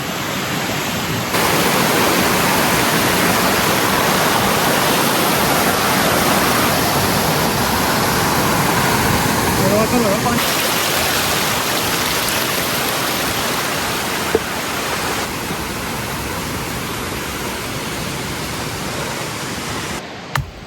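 A loud, constant roar of a mountain waterfall in the Alps, a dense rushing wash of water that stays steady throughout with no voices.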